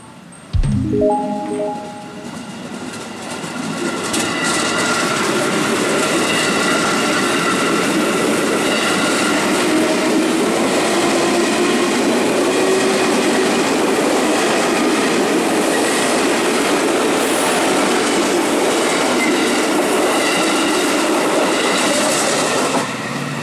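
An electric KRL commuter train rumbles past close by at a level crossing in Cikoya, Indonesia, a loud sustained roar with clattering wheels and a faint squeal, lasting the whole stretch.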